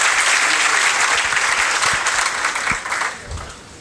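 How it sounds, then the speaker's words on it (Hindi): A crowd applauds steadily, a dense wash of clapping that stays loud and then tapers off slightly toward the end. "जोरदार तालियों के साथ स्वागत"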